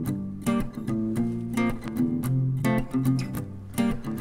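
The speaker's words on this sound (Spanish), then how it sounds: "y es una guitarra acústica que suena así." An acoustic guitar recorded with a dynamic microphone plays strummed chords and picked notes in a steady rhythm, close and clear, with no talking over it.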